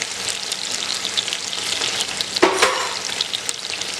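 Onions and tomatoes sizzle loudly in a hot pan over medium-high heat, a steady frying hiss broken by a brief scrape and clatter of stirring midway, with no voices.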